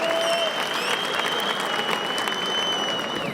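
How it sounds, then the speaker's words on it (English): Audience applause at a Counter-Strike grand final esports tournament, a dense, loud, continuous clapping from a large crowd filling the space throughout. "Round of applause for that."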